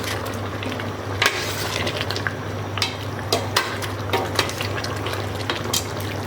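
Mutton and bitter gourd are stirred with oil in a pan, giving a steady low sizzle with scattered scraping clinks of the spoon against the pan.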